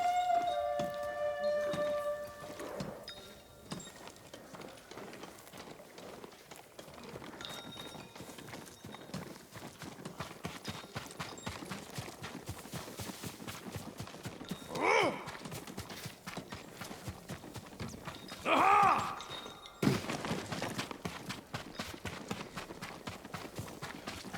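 Steady clip-clop of horse hooves trotting throughout in the video game Ghost of Tsushima, with a horse whinny rising briefly near the end over a busy ambient background.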